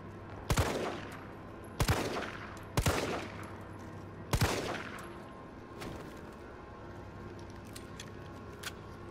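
Four loud gunshots, widely and unevenly spaced, go off in the Resident Evil 3 Remake video game, each with a ringing decay over a steady game background hum.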